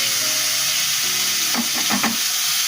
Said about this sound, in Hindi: तो हम यहाँ बना रहे हैं अपने साग के लिए तड़का